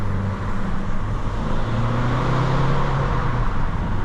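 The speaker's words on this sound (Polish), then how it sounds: "Ty, ale dobrze się zbiera ten samochód nawet." A 2007 Volvo C30 2.0D diesel hatchback with 136 hp accelerates, its engine droning steadily with a low rising tone and road noise, heard from inside the car at constant loudness without talk.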